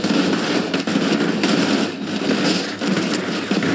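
A car crashing into a speed bump in BeamNG Drive, a loud, dense stretch of crunching, rattling impact noise with continuous grinding and clatter throughout.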